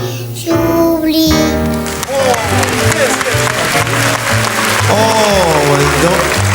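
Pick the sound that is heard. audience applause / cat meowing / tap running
audience applause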